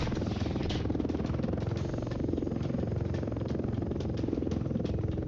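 A helicopter flying in the Roblox War Tycoon video game gives a continuous, loud, buzzing rotor drone with a fast pulsing beat, steady throughout with no talk.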